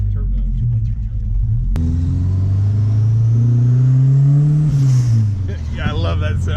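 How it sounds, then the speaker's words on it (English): A turbocharged Fox Body Mustang SVO V8 engine revs loudly, its pitch climbing and then falling off, followed by a sharp hissing blow-off valve release and the engine settling back. "That blow off valve, that's awesome."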